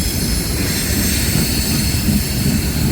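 A freight train on the Old Main Line rolls past slowly at about 15–20 mph, a loud, steady rumble of wheels and cars close by, with a faint high metallic whine above it.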